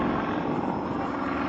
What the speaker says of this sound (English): hanging the aeroplane on that huge three-bladed Hartzell propeller